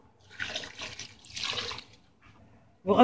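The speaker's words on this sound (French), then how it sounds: "J'ai rajouté 1 litre d'eau, je rajoute encore un demi-litre d'eau, ça fait 1 litre et demi en tout." Water is poured into a pot of Algerian soup as it cooks: two soft gushing pours close by, a brief lull, then a louder splash at the end.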